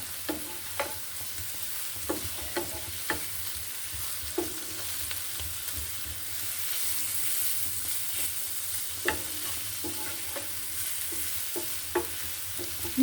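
Carrot, potato and papaya bhaji being stirred in a pan, with a steady soft frying hiss and scattered spatula scrapes and taps at irregular intervals, close by and fairly quiet.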